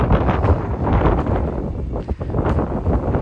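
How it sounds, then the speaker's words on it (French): Strong outdoor wind buffets the microphone, a loud rumbling roar that surges and dips, with one brief lull midway, and no speech. "il y a beaucoup de vent, je ne sais pas si vous m'entendez encore"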